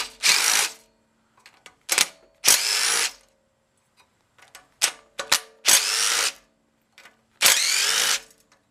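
A power tool whirs in short bursts, six or so loud close runs with quiet gaps and small metallic clicks between, as head bolts come off a Tecumseh 10 HP engine.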